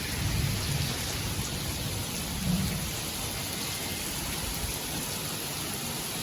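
Very heavy rain pours down in a dense, steady hiss, with faint low rumbles early on.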